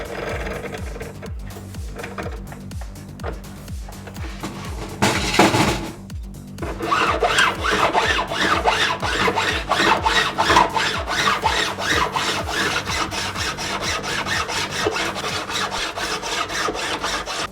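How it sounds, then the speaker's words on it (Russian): Jeweller's saw cutting through silver links for a handmade Bismarck chain, a steady rapid back-and-forth rasp of fine strokes, close and continuous, with a louder burst of handling partway through. "И начинаю пилить."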